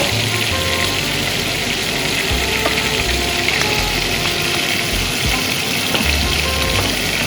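Balsamic vinegar and butter sizzle hard in a pan with meat juices, making a loud, dense, continuous hiss with a few faint clinks and no talking.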